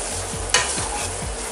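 Masala being stirred into frying potatoes for achari aloo in a pan, a spoon scraping in steady repeated strokes over a continuous close sizzle, with one sharper clack midway; no talking.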